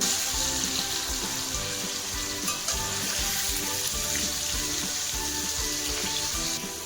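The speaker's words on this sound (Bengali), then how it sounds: "এখন হচ্ছে আমাদের আলুগুলো ভাজা হয়ে" Potatoes fry in hot oil with a steady close sizzle and crackle throughout, constant and moderately loud, with faint scraping of stirring now and then.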